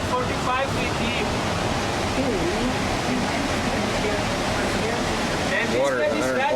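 A fast, deep, narrow river rushing beneath a suspension bridge in Alaska, a broad steady roar of flowing water, with people talking faintly over it.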